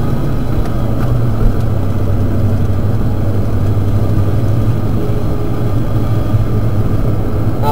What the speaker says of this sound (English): We took the little mule a little while to pick back up in third.